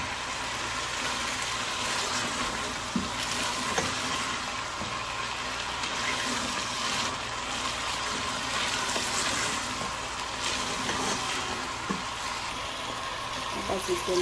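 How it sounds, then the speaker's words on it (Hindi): Food frying in a pan with a little water added, a steady close sizzle and hiss running throughout with faint clinks of stirring. "हल्का हल्का पानी डाल के मैं फ्राई कर रही हूँ"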